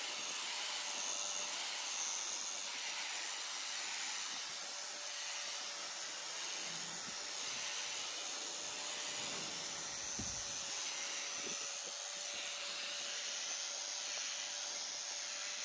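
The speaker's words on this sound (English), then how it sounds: "Machine smooth the grooves for easy installation of anvil covers." A machine smooths the grooves of a steel buckle-type anvil cover, giving a steady, loud, hissing whine that runs unbroken for the whole stretch with only slight shifts in grinding texture.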